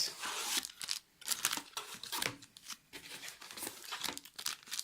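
A Magic: The Gathering Ixalan pre-release booster pack wrapper is torn open, with bursts of foil crinkling and ripping that come in uneven waves close to the mic.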